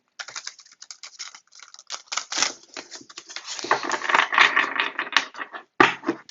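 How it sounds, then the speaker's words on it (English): A deck of tarot cards is shuffled up close, with rapid papery riffles and flicks coming in quick uneven bursts that grow denser toward the end, and no talking. "I'm going to shuffle the deck one more time"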